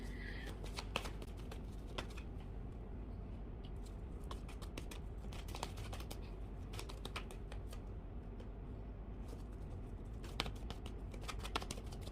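Tarot cards being shuffled during a reading, soft repeated riffling and tapping clicks, close and quiet against a faint background hiss.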